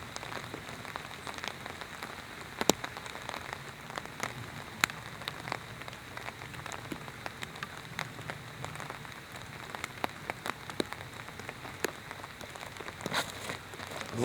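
Steady rain falls across an outdoor disc golf course, a continuous dense hiss of droplets with scattered sharper ticks of drops hitting nearby surfaces, and nobody speaking.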